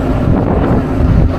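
A ferry speeding across open water on a Jakarta–Lampung crossing under overcast skies, heard as a loud, steady roar of wind buffeting the microphone over the deep rumble of the engine and rushing water, with no voices.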